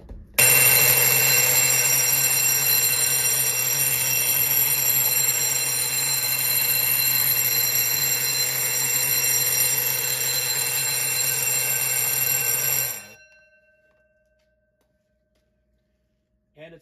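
A 24 volt DC fire alarm sounds a loud, steady, continuous ringing tone for about thirteen seconds close up, then cuts off abruptly into near silence.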